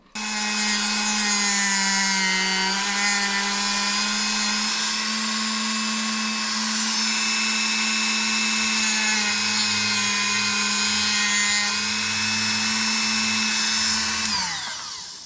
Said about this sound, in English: And I'm going to use a little Dremel.